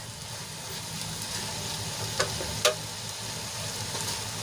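Spiced masala and okra sizzle steadily in a pan on a gas stove, a close, even frying hiss broken by a couple of brief scraping stirs.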